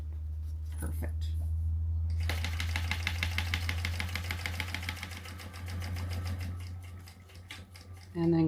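A sewing machine top-stitches along a bag zipper, speeding up into a steady, rapid mechanical rattle for about five seconds before slowing and stopping, with a low motor hum underneath and a short clunk at the end.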